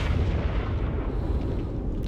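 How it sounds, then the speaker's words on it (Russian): A gunshot in the horror video game The Evil Within 2 rolls out as a heavy, booming report with a long rumbling tail, loud and low, without voices. "Что за выстрел?"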